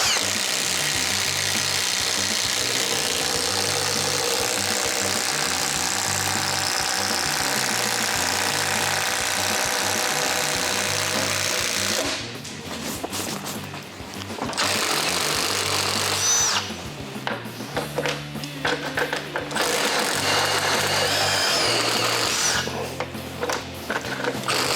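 A Milwaukee M18 FUEL impact driver spins a Bosch Daredevil bit, its rapid hammering rattle running continuously and loud through most of the stretch, briefly dropping out and stuttering into short bursts near the middle before resuming.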